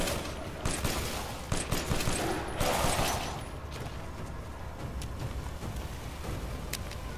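Rapid pistol fire and surrounding shooting in the video game Resident Evil Village, a dense barrage of cracks over a constant rumbling background that stays loud throughout.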